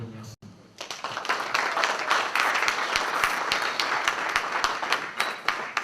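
Audience clapping at a school gala held at a lycée, a dense burst of applause that rises after a brief pause and keeps up steadily with sharp individual claps throughout.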